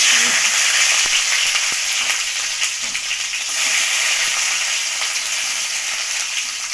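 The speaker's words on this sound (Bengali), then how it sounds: "কড়াইয়ে তেল দিয়ে দিয়েছি এখন দিয়ে দেবো" Green chili and black cumin frying in hot oil in a wok, a steady loud sizzle and crackle that runs throughout with no pauses.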